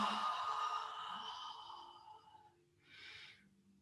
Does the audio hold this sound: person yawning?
yes